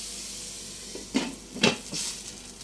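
Red spinach stems for thoran cook in a pan with a soft, steady sizzle, broken by a few brief stirring scrapes and clatters.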